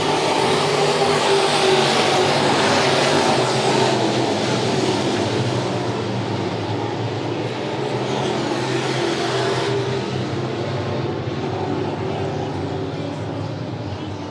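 Race cars roaring around a dirt oval at Monett Motor Speedway during a feature race, a dense continuous engine drone that swells and fades slightly as the pack passes, with an announcer talking over it.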